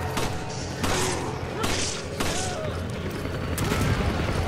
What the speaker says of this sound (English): let me see if I can throw a grenade at these guys.